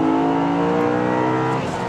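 A 2008 E90 BMW M3 V8 with EDC on pulls hard under full throttle, the engine note rising loud and close from inside the cabin before a brief overshift near the end.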